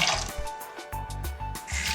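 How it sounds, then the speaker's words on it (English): Water runs from an old single faucet after its gasket is replaced, a loud, close, sputtering gush that pulses unevenly as the flow surges and catches, with no talking. "Turn the water back on."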